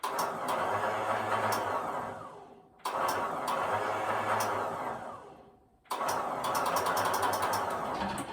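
An engine with a failing new starter cranks in three long grinding bursts, each whirring on for about two to three seconds and fading before a short pause, clicking and straining without catching, close and alone.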